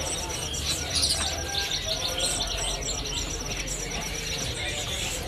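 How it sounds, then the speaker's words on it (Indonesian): An anis kembang (chestnut-capped thrush) offered for sale at a bird shop gives repeated high chirps and short calls over a steady background hum, with faint voices nearby. "ada juga stok burung anis kembang"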